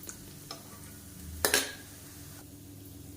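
Food fries in oil over medium heat with a soft continuous sizzle, broken by a brief bright burst of spattering and clatter halfway through before settling back to a quiet bubble.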